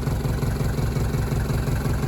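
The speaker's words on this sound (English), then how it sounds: "as you can hear, a little bit of shudder coming from that engine" A 1983 Mercedes W123 240D diesel with a bad engine idling nearby, with a steady low rumble and a rhythmic shudder running throughout, no other sounds.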